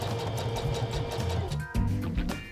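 A sewing machine stitches a hem in a fast, steady mechanical chatter, close and even, with a brief hitch midway before the whirring stitching picks up again; nobody talks.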